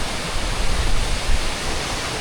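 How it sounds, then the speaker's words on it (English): A waterfall in the Scottish Highlands rushes with a steady, dense broadband roar, continuous and fairly loud with no other sounds or voices. "It's very nice to see the waterfall and the sun just behind it."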